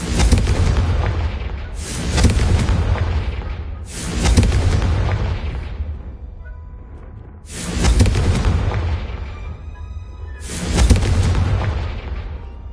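Blasting-spell explosions from the Hogwarts Legacy video game: four loud, booming bursts spaced a few seconds apart, each with a sharp attack and a long rumbling decay, with no voices over them.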